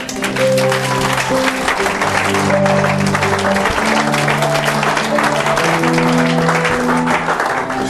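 A church congregation applauding and cheering in praise, loud dense clapping sustained throughout while music plays underneath.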